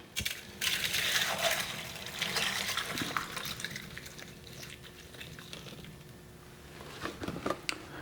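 A frozen mix of isopropyl alcohol and water is poured into a 3D-printed PLA mold, giving a close, crackling, slushy splash that trickles and patters for several seconds, with a few sharp clinks.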